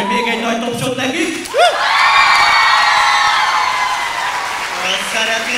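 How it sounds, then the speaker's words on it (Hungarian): A school audience at a student-day ancient Greek drama performance erupts in applause, whoops and cheering that swell and hold steadily, loud and close, with a voice talking over the start. "Úgyhogy még egy nagy tapsot nekik!"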